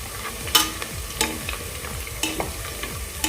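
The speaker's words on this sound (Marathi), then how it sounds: "आता पुन्हा आपण हे व्यवस्थित असं फ्राय करूया हलवून घेऊया" Star anise and black peppercorns fry in a pan for a spicy prawn biryani, with a steady sizzle and a few sharp scrapes from a spoon as it stirs, close and with no voices.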